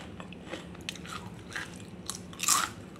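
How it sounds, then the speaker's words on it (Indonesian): Crisp bites into crunchy fried salted ribbonfish: a handful of sharp crunches spread over a few seconds, the last one loudest, heard up close with no talking. "Ini saya coba ini kriuk nih."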